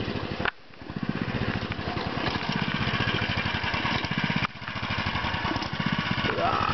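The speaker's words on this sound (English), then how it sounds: "That's how you drive a go-kart." A small go-kart engine runs loudly and continuously close by, a rough rapid chugging drone that holds steady with two brief dips where the throttle eases before picking back up.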